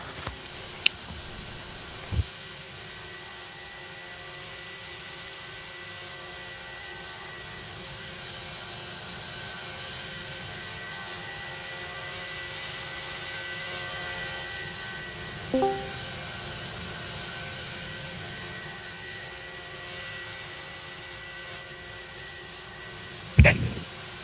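A steady, moderate airplane engine drone of an aircraft taking off in the Roblox PTFS flight simulator video game, held throughout with a couple of brief clicks, no talking.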